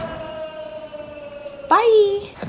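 An ambulance siren from a film sounds as a steady wailing tone that rises abruptly into a louder, sweeping howl near the end, fairly close and clear.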